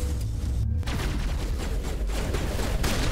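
Rapid gunfire from a firefight against Geth in Mass Effect Legendary Edition, dense continuous shots and booms that stay loud and busy with no talk.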